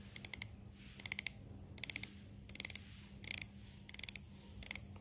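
A 60-click bezel on a Pagani Design PD 1649 homage watch turns in quick bursts of three to five crisp ratcheting clicks, eight bursts spaced about half a second apart, close and sharp against a quiet background.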